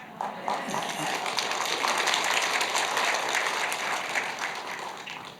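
Applause from a church congregation during a pastor's retirement service, dense and steady, with voices murmuring beneath the clapping throughout.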